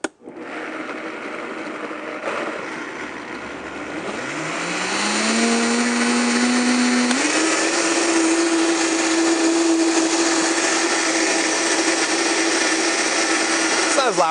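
A kitchen blender whirs up to its high speed setting, the motor pitch climbing and then holding a loud steady whine, close by with no talking.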